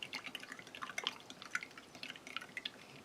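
Water trickles and splashes into a glass to make up instant coffee from a Danish Army 24-hour combat ration, a quiet, close, bubbly patter of drips without talk.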